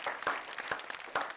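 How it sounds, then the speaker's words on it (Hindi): A short stretch of audience applause for a poet at a televised poetry gathering, faint, dense clapping with a few louder claps. "हम जोरदार इनके लिए तालियां बजाते हैं"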